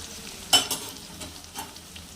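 Potatoes and onions frying in a pan, browning before boiled jackfruit goes in, a soft steady sizzle punctuated by a few sharp spatula knocks and scrapes, close by and without speech.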